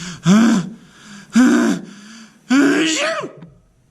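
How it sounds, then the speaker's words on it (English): Three loud, explosive sneezes in a row, each preceded by a sharp intake, spaced about a second apart, with the last one longer and drawn out. "The bear, tickled by the mouse's whiskers, gave an enormous sneeze."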